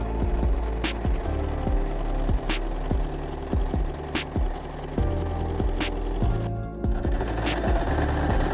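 Sewing machine hemming the raw edge of an old quilt, rapid rhythmic needle thumps close by in short runs with brief pauses between bursts.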